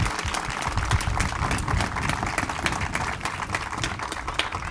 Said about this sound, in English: let's give them a round of applause first.